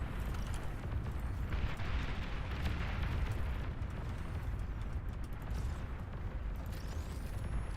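A commander unit blows up in the real-time strategy game Beyond All Reason, heard as a dense, rumbling roar of explosions and blasts that holds at a steady level, with no talk over it.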